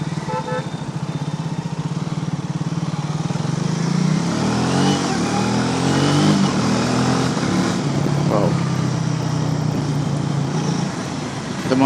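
A Triumph T4 motorcycle ridden through busy traffic, its engine thrumming steadily with brief throttle rises, close and loud, surrounded by road noise while the rider talks.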